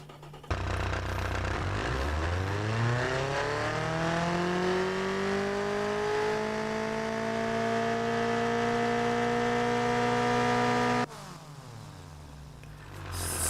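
A car engine in the racing sim Automation revs during a dyno pull: a loud, smooth synthetic tone rises steadily in pitch for about ten seconds, then cuts off abruptly.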